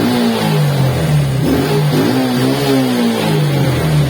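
Suzuki Smash motorcycle engine revving hard on sudden throttle, the pitch climbing and dipping in surges over a steady close running drone, with no voices.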